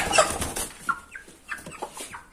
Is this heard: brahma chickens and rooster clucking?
yes